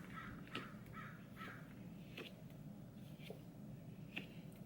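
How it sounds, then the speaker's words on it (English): Crows cawing outdoors, several harsh calls scattered across a few seconds at moderate distance over a low, steady background hum. "The birds! I love the birds."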